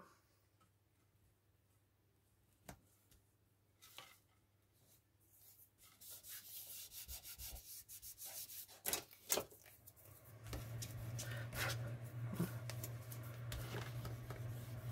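Material is spread by hand across a scrapbooking card for a funny-monster children's birthday invitation. Faint isolated taps come first, then rubbing and scraping grow steadily louder and become a continuous close rub.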